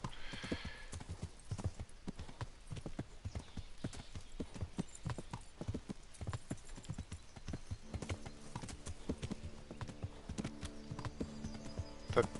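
Horse hooves clip-clop in the video game Kingdom Come, a steady, fairly faint trotting rhythm that continues throughout, with a short tonal game sound joining in the latter part.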